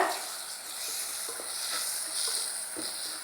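Garam masala and turmeric sizzle in a hot pan as they are mixed, a steady close hiss with soft scraping stirs, no voices.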